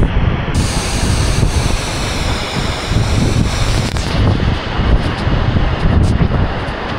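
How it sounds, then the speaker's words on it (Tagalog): Strong wind roars and heavy water crashes down at Hulugan Falls in Laguna during stormy rain, a loud unbroken rush with wind buffeting the microphone throughout. "Ang lakas ng hangin, tapos sumasabay yung tubig."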